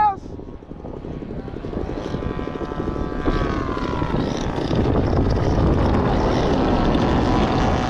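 RC P-51D Mustang model plane with a twin-cylinder GP76 engine making a low gear pass, its buzzing propeller drone rising steadily and growing louder as it nears, loud and continuous.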